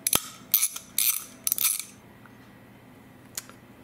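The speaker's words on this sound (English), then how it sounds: "Now I will remove this cover which has the ball inside. I'll be using 8mm socket to remove these four" An 8mm socket ratchets bolts loose from the cover of a Honeywell zone valve, giving four quick close metallic clicking bursts followed by a short quiet stretch and one last faint click.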